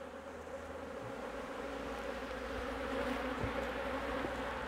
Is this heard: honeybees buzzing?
yes